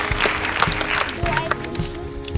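A class claps briefly at an outdoor spoken-English lesson, a few quick rounds of hand claps close by, mixed with children's and a teacher's voices throughout.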